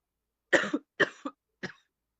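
Three short, dry coughs in quick succession, close and fairly soft, with silence around them.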